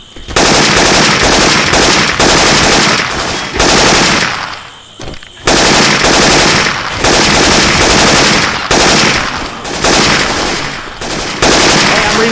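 Automatic weapon fire from Left 4 Dead 2 gameplay using Syphon Filter weapon sound effects: loud, rapid bursts of gunshots in repeated volleys, with one brief pause midway.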